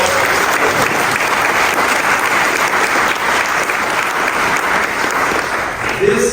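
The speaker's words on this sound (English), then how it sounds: "can we give each other a great big round of applause?" Audience applause at a business summit marking Asian American, Native Hawaiian and Pacific Islander Heritage Month, a steady, dense wash of clapping from a crowd that carries on throughout.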